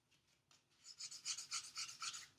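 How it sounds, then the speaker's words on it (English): Rhythmic back-and-forth scratching of sandpaper on a plastic model kit part, a dozen quick rasping strokes, close and fairly quiet, following a few lighter scrapes. "I'm just going to switch to sandpaper to get the rest of it off"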